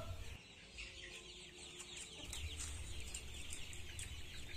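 KUB chickens cluck softly and repeatedly close by while drinking water, a busy chorus of short calls layered over low farmyard background noise.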